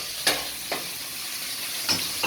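Food frying in a pan under a steady background sizzle, with a few sharp scraping or tapping strokes of a utensil at irregular intervals, close and alone.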